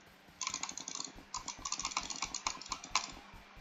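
Rapid bursts of clicking during a Roblox Bedwars match, crisp and close, arriving in fast irregular clusters with brief pauses between them, with no talking.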